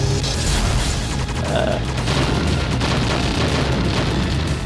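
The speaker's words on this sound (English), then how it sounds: "And there's her bomb." A character's bomb going off in a video game, a loud continuous rumbling blast with deep booming low end that fills the whole moment, alone without talk.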